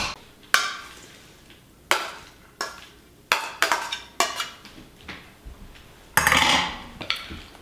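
Guacamole of avocado, onion, Roma tomato, cilantro, lime juice and roasted serrano chilies is mixed by hand, with a utensil clinking and scraping against the bowl in irregular taps and strokes, close and fairly loud, with no talking.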